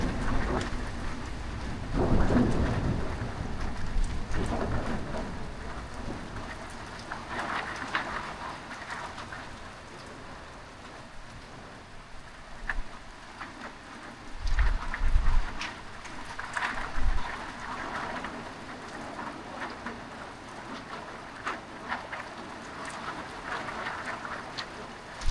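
Thunderstorm over an airfield at night: steady rain patters on surfaces while rolling thunder rumbles in several deep bursts, a couple of kilometres off, rising and fading beneath the constant downpour.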